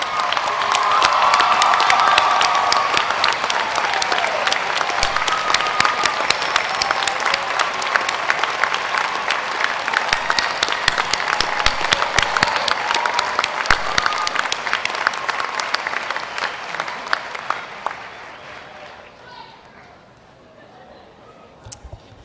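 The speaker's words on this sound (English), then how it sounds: "I think they deserve a round of applause." Sustained audience applause at a university undergraduate commencement ceremony, dense and loud for about seventeen seconds before tapering off, with occasional voices and cheers mixed in.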